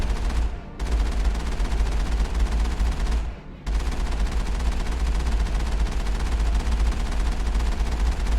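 Sustained rapid gunfire in the sci-fi video game Mass Effect, a loud, dense volley that runs almost without pause, with two brief dips in the barrage.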